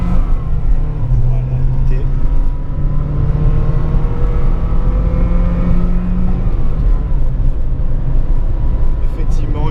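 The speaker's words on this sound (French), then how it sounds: "Une Saab 900 turbo, ça envoie," A Saab 900 Turbo accelerating hard, its engine note droning loud and steady with rising tones as the gears climb, heard from inside the car throughout.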